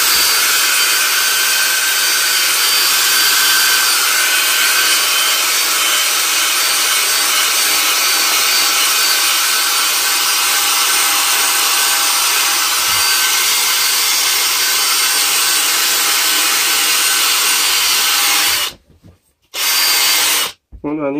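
Power drill with a polishing attachment buffing a Rega turntable plinth, a loud, steady, close whirring hum with rubbing friction that runs continuously and cuts out abruptly twice near the end.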